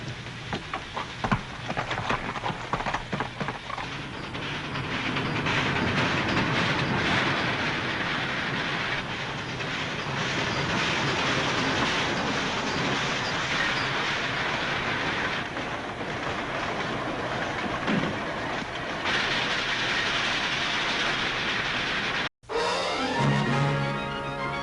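A train rolls past at length with steady rumbling and rhythmic clickety-clack of wheels on rails, loud and close, briefly cut near the end.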